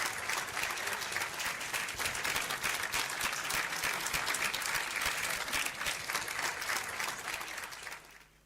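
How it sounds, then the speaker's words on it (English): Sustained, dense audience applause for award winners at a tech conference in Enugu, loud and even for about eight seconds before tapering off at the end. "Please let's give a round of applause for our winners."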